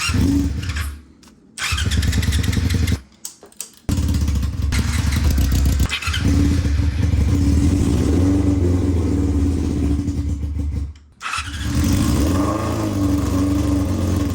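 A trashed Yamaha R6 sport motorcycle with carburetor trouble cranks, catches and runs loudly up close, the engine cutting out briefly a few times before firing again and holding a steady, slightly uneven idle.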